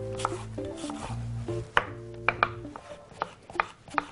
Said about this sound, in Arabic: واجيب عند السكينه ونبدا نقطع شرايح رفيعه